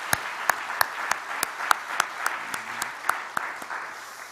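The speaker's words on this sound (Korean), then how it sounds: "하나님께 영광의 박수를 드릴까요?" A congregation at a Korean Sunday worship service claps in a steady rhythm, with sharp, evenly spaced beats roughly three per second over a soft background of scattered hands.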